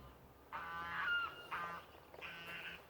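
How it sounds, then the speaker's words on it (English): Geese just let out of their pen honking nearby, three loud nasal calls in quick succession over a quiet outdoor background. "I let the geese out, and so they're letting us know they're out."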